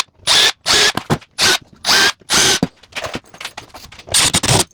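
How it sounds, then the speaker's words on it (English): A power drill boring holes into a wooden fixed shelf unit, heard as several loud, close bursts of high whine separated by short pauses and small handling clatter. "I don't know how many times I can show drilling a hole."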